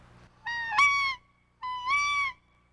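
A Screamin' Peacock call, a hand-blown turkey locator imitating a peacock, gives two loud, shrill, nasal honking screams, each rising then holding, separated by a short pause over a quiet background.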